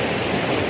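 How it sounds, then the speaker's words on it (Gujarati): River water flows below Malan dam, a dense, steady rushing wash heard up close and alone. "નદીનો જે અવાજ આવે છે વાહ ભાઈ વાહ શાંતિથી અવાજ આમ ઝરણાનો અવાજ આવે પાણીનો"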